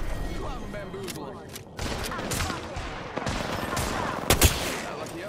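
Automatic gunfire in Apex Legends, with several short bursts and a sharp louder crack near the end. It plays under steady game noise and talk.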